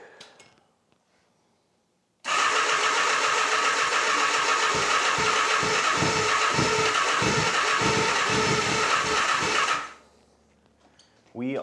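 A Honda Nighthawk motorcycle that has sat for four years is cranked with the choke on. Its engine churns loudly and steadily for about seven and a half seconds with rhythmic pulsing, then stops abruptly.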